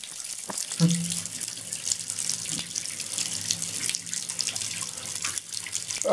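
Dirty water gushes from a kitchen tap after a water main failure, a steady close hiss of running water into a sink with occasional splashes and knocks throughout.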